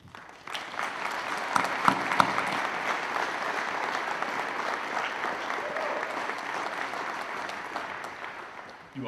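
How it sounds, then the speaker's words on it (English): A commencement audience at a community college graduation ceremony applauds its graduates, a dense, steady wash of clapping from a large crowd that holds for several seconds and tapers off slightly at the end, with no voices over it. "Let us now applaud these graduates."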